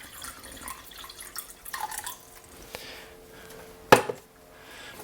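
Filtered water poured into a bowl for planting heirloom bean seeds, a faint trickling and dripping with one sharper splash near the end, fairly quiet and close.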